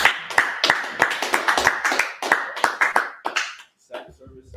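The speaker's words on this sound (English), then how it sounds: "All right, clap it up, clap it up." A church congregation claps at a Sabbath service, loud rhythmic handclaps in a steady rapid beat for several seconds before tapering off, with a voice talking over them.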